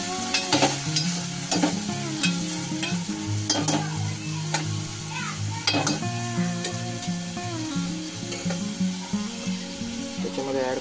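Garlic tempering fries steadily in a pan for a Maharashtrian drumstick and prawn masala, a close, continuous sizzle with a few stirring scrapes and clinks, while background music plays over it.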